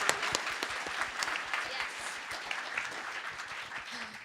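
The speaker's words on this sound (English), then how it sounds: "Round of applause for him." Audience applause at a convention voice-acting panel: a steady, moderately distant patter of many hands clapping for a few seconds.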